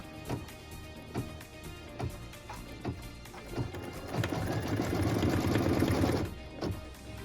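Sewing machine stitching down quilt binding on a wall hanging, a quick series of evenly spaced needle strikes that run together into a steady, louder mechanical whir toward the end.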